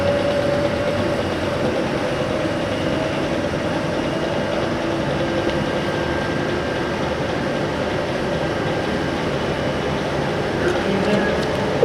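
A tree mill machine runs at 450 RPM with a steady low mechanical hum and drone, held at an even level throughout under a faint whine, fairly close, with no talking.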